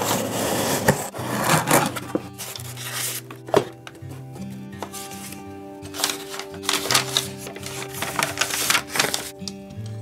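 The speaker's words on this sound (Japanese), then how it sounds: "それでは開封していきます。" Unboxing a Japanese-made Yamaha MS-250ALS folding aluminium music stand: crisp rustling of packaging, clicks and light knocks of metal and plastic parts handled at close range, intermittent and irregular with no talking.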